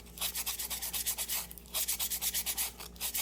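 An acrylic disc for a glow-in-the-dark UV resin keychain is sanded by hand with quick, rhythmic back-and-forth rasping strokes, close and steady, pausing briefly midway before resuming.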